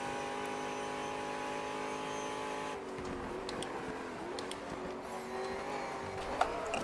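TVR race car engine in the racing game GTR2, a steady held engine drone that shifts to a lower, rougher rev note partway through, with a faint click near the end.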